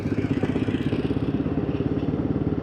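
A 2026 Royal Enfield Himalayan engine labours at 2000 RPM in fourth gear, a rhythmic low thudding pulse that stays steady and close throughout, with no talk.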